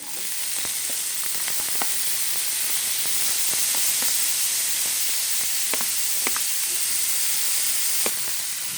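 Chopped onions fry in ginger garlic paste with a steady, loud sizzle and hiss, and scattered crackles and stirring clicks pop through the constant frying noise.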